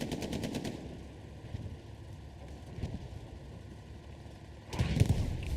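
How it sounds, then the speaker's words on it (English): A Panther tank shelling down a road during a competitive video game match, with rattling gunfire through the scene and a heavy, loud blast near the end. "So Phoenix Panther is shelling straight down the middle of this road."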